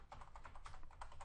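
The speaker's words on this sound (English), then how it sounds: "if I type in here" Fingers tap quickly on a computer keyboard, a close, quiet run of crisp key clicks in an irregular rhythm with no talking.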